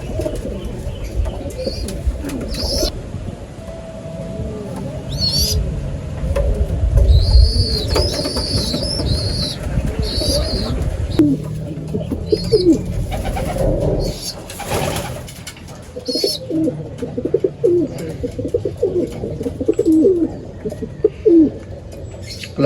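Pigeons cooing near a loft during feeding with honey, several soft throaty coos and calls over some wing flapping and rustling, close by and fairly loud.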